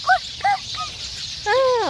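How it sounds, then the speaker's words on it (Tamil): Several bright, rising-and-falling bird calls ring out outdoors at night during a walk, short chirps at first then a longer squawky burst, clear over a steady hiss of background noise. "குருவி குருவி எப்படி கத்துன்னு பாருமா சவுண்டை பாரு"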